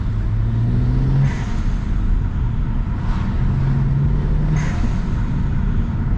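Modified turbocharged car fitted with a VRSF charge pipe and HKS blow-off valve, revving loudly and steadily nearby, with a couple of sharp blow-off hisses between the throttle blips.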